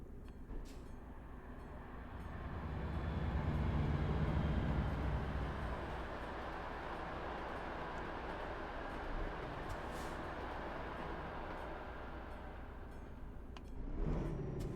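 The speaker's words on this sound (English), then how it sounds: "Fucking hell, it's another train!" A train rumbles past in Euro Truck Simulator 2 as a steady, broad roar that swells to a peak and then holds at a lower level, with no voices over it.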